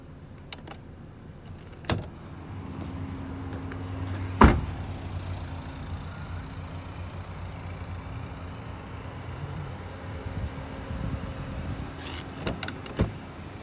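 Power door locks and electric windows working on a 2008 Honda Fit Sport: a sharp lock clunk stands out over a steady low cabin hum, with lighter clicks and a short motor whir coming before and after it, and no talk.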